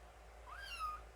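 A cat meows once, a rising then falling tonal call of about half a second, clear and fairly close over a low steady background hum.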